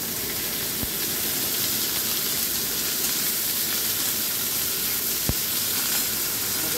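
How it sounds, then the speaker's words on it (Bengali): Eggplant sizzles steadily in hot oil after garlic and dry chili tempering, a constant broad frying hiss with a couple of sharp clicks from the pan, no voices. "বেগুনটা আমি একটু ভেজে নেব"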